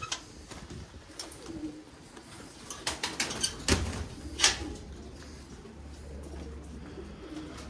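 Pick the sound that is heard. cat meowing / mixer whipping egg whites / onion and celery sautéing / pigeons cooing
pigeons cooing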